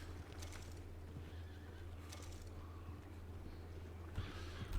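A horse in the video game Red Dead Redemption 2 whinnies in a few bursts over a steady low hum, with faint hoof clip-clop mixed in and a louder whinny near the end.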